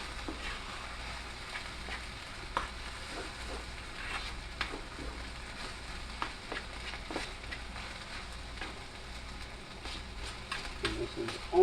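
Spicy chicken and vegetable fried rice being stir-fried in a pan, giving a steady, moderately close sizzle and crackle with scattered scraping taps of stirring throughout.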